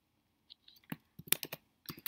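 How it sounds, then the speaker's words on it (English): Sparse, faint clicks from a computer keyboard being typed on, in short irregular bursts with quiet gaps between them. "you can hear my keyboard clicking and whatnot"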